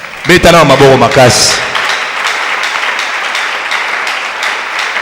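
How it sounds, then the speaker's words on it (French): A religious teaching gathering's audience breaks into applause and cheering right after a brief spoken phrase, a steady broadband wash of clapping that holds at full level to the end. "Encouragez-moi par vos acclamations quand même."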